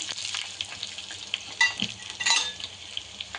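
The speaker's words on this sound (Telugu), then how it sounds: "ఇదిగో మనకి ఎండుమిర్చి అన్నీ కూడా మనకి ఫ్రై అయిపోయింది" Dried red chilies crackle in hot oil with lentils, cumin and mustard seeds for a pudina chutney tempering, giving a steady close sizzle with sharp pops and brief stirring clinks.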